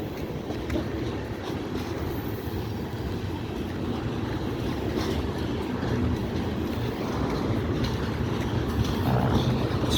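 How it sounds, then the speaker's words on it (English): Norfolk Southern freight train rolling past on the Delair Bridge, a continuous loud rumble and rattle of cars at close range, steady throughout with no clear horn blast and no talk. "I got a train from the Delair Bridge going off while it's going by me"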